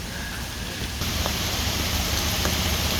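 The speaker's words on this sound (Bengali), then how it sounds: "আমরা এই গাছটার নিচে আশ্রয় নিয়েছি বৃষ্টি থেকে বাঁচার জন্যে।" Steady rain hisses down in a dense, even wash of noise beside a canal, heard from under a tree, growing slightly heavier after a moment, with a few faint drips standing out.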